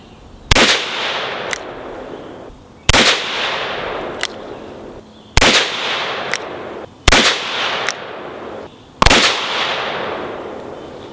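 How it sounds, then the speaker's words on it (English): A Taurus Raging Bull .44 Magnum revolver fires five loud, sharp shots, evenly spaced about two seconds apart, each followed by a ringing outdoor echo. "Just gonna shoot a group at Mr. Zombie down there on his head and see what we can get."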